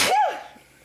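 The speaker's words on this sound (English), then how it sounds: "There's a single sneeze." A single short sneeze, close and abrupt, fading quickly into quiet.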